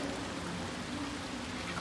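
Rain falls in the video game Little Nightmares 2 as a soft, even hiss of drops, faint and continuous, with no talking.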